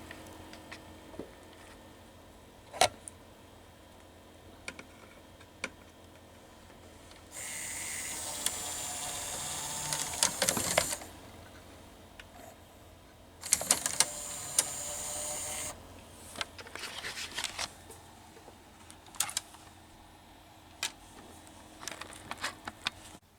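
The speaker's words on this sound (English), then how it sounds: "here's the loading motor. So it uses a belt mechanism." Sanyo DVD player loading motor driving a belt mechanism, quiet clicks and ticks broken by two stretches of steady whirring, close and faint with no talk.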